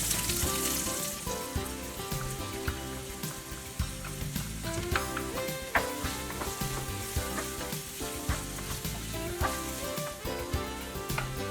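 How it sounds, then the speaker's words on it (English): Onion and minced garlic sauteing in a pan for beef caldereta. A steady sizzle runs throughout, partly masked by loud background music with a rhythmic beat. "So now saute the onion. When translucent and soft, add the minced garlic."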